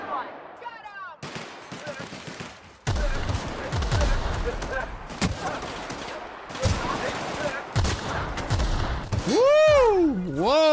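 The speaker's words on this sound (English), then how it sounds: "Returning fire!" Gunfire in the video game The Outer Worlds, with a burst of rapid shots and heavier blasts rattling through a loud firefight, mixed with game effects and voices shouting over the action.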